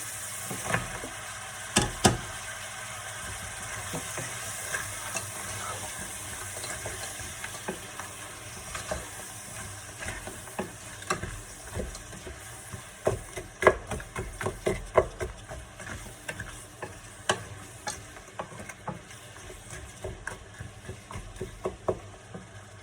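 Ratatouille vegetables fry in a hot pan with a steady sizzle and crackle, broken by frequent clacking stirs of a utensil against the pan, close and continuous with no talking.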